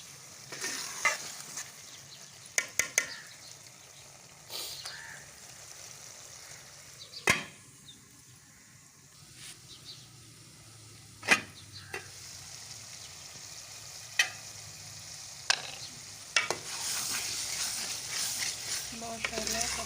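Pumpkin and peas with green chillies frying in a pan, a steady soft sizzle broken by repeated sharp scraping clicks of a spoon stirring, close and moderately loud, with no talking.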